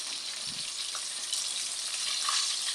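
Steady hissing sizzle of tilapia frying in hot oil, close up, with faint crackles and pops throughout and no talking.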